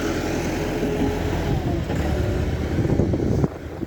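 A Massey 385 tractor on a rain-damaged road moves past with a continuous low diesel drone, rough and steady, rising slightly near the end over faint background noise.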